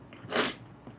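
A single short, sharp sneeze, close and fairly quiet, with a brief breathy intake before it and a soft exhale after.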